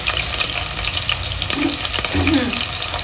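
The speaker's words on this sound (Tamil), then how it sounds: "வெங்காயத்தை போட்டுட்டு அதுக்கு பச்சை மிளகாய் வதக்கிக்கலாம்" Onions and green chillies sautéing in a pan while mutton kulambu is being cooked at home, a loud, continuous close sizzle with stirring, some watery hiss and faint voices underneath.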